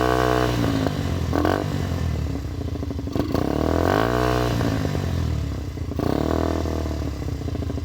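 A Kymco Quannon motorcycle engine with a PZ30 carburetor revving repeatedly, the throttle blipped up and down in bursts with rising and falling pitch, loud and close-up.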